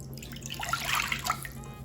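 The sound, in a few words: cup of water poured into bowl for dhokla batter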